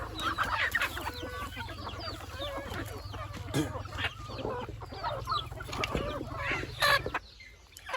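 Native country chickens, a three-month and a six-month bird held in hand, cluck and call steadily and fairly close, with an occasional louder squawk over a constant low hum.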